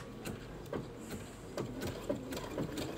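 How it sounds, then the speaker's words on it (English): A Brother Baby Lock sewing machine fitted with an edge joining foot stitches in a steady run of quiet, rhythmic mechanical bursts, heard alone with no talking. "And I'm going to go ahead and start stitching."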